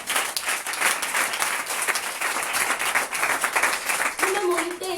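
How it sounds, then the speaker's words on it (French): A church congregation applauds during a Sunday service testimony, a dense, steady wash of clapping lasting throughout, with voices and cheering mixed in near the end. "Acclame Jésus."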